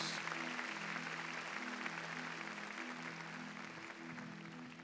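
Church congregation giving a round of applause, a continuous wash of clapping heard faint and somewhat distant over a low steady hum, holding even throughout.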